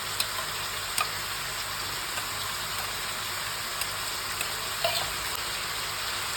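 Washed chicken pieces frying in a pan for a Kadaknath chicken soup, a steady broadband sizzle with scattered small pops and ticks, even and continuous throughout, close and without talking.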